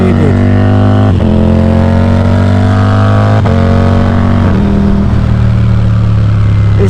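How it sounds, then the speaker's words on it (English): A Ducati Diavel V4 motorcycle with an Akrapovic full race exhaust roars loud and close. Its deep, harmonic engine note holds steady, with several gear-change dips and rises. "This bike really does sound good."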